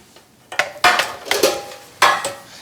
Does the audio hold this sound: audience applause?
no